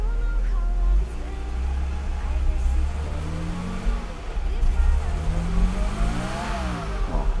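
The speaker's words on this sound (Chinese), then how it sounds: "我试着慢慢的加油看看。" A 1993 Mercedes W463 300GE engine after a rebuild revs with rising and falling pitch under throttle, hesitating with fuel starvation, loud and close, with some voice in the background.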